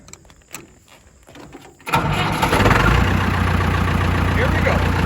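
A Massey Ferguson 285 tractor engine cranks and catches after a quiet moment, then settles into a loud, close, steady running rumble.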